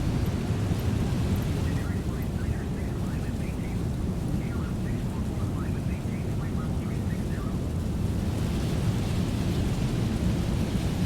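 Steady rain hisses over a deep, continuous rumble like an aircraft engine, with faint pattering and a voice murmuring beneath, in a flight simulator game, Microsoft Flight Simulator, flying through clouds.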